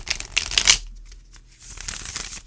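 Oracle cards of thick card stock being cut and spread by hand, a close run of quick papery riffles and flicks that fades into quiet handling, then resumes as softer sliding and tapping.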